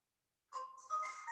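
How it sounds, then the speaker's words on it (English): A phone rings partway through a live home fitness class. It is a faint, melodic electronic ringtone that starts after a short silence and carries on to the end. "Sorry for the phone call."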